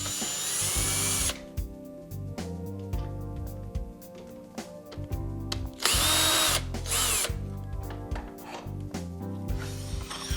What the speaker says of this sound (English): I'm going to use my trusty rusty screw gun here and take the end cap off.